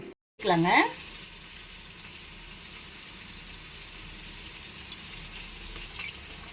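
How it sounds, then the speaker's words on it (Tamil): Onions sautéing in a pan for a spinach poriyal, a loud sizzling burst as they hit the oil, then a steady close hiss of frying. "வெங்காயம் வதக்கிக்கலாம்"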